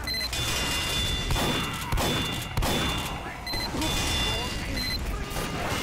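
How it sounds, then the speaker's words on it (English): An engineer's sentry gun in Team Fortress 2 on the Cactus Canyon map fires in dense rapid bursts amid a busy game battle, with steady gunfire, thuds and electronic beeps, heard alongside a voice talking over it. "they get confronted with quite a lot of firepower from your gun"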